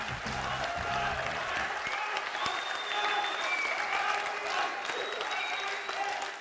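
Sustained applause from a theatre audience for a poet at a poetry competition, a dense wash of clapping from a large crowd filling the room at steady loudness, with a few faint whistles.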